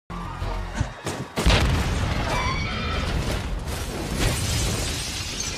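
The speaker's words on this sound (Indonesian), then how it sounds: "Dan bom pun meledak." A loud, sustained blast of rumbling, crackling noise with debris-like clatter, like an explosion going off close by and echoing for several seconds.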